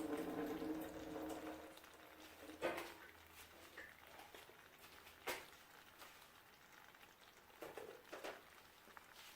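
Juice from a can of Rotel tomatoes pours off in a faint, steady trickle and splash under low room noise, with a few soft clinks of the can.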